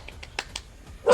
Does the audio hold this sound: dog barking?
yes